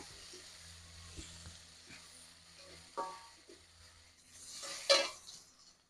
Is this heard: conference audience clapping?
no